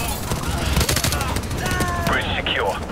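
Rapid automatic gunfire in Call of Duty: Modern Warfare Remastered, loud and continuous bursts, with whooshing effects and voices mixed in underneath.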